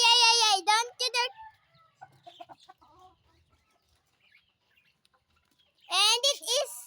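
A caged pet bird, likely a chicken or rooster, calls in loud clucking, crowing bursts at the start and again near the end, with children talking quietly in between.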